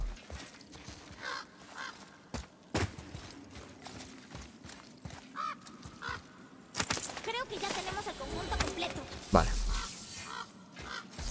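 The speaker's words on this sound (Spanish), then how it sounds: "Y suena como un cuervo de Odín." An Odin's raven in the video game God of War caws amid busy game effects, with several short harsh calls mixed into layered ambience and impacts.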